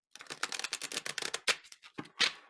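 A True Black Tarot card deck is shuffled by hand, giving quick bursts of crisp, riffling card flutters broken by short pauses, close and fairly quiet with no talking.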